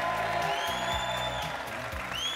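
A studio audience at a Greek game show in Cyprus claps and cheers loudly, a dense continuous wash of applause with rising shouts and whistles throughout.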